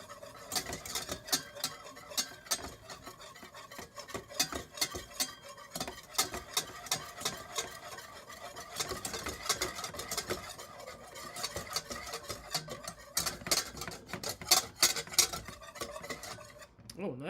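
A whisk stirs a roux in a pot for lobster mac and cheese, with fast, continuous metallic ticking and scraping against the pot at a moderate level and no talk.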